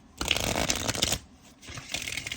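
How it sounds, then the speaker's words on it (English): Oracle cards being shuffled by hand, two close bursts of crisp riffling flutter separated by a brief pause, with no talking. "I'm going to give it a good shuffle"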